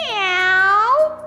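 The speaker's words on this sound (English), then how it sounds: "Meow, sang the cats on the wall." A single drawn-out cat meow in a children's story, a clear rising-then-falling cry lasting about a second, close and prominent.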